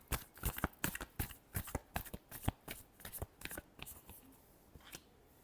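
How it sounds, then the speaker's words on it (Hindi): Tarot cards are shuffled by hand in a quick run of sharp riffling bursts, close and fairly quiet, thinning out toward the end. "Last shuffle."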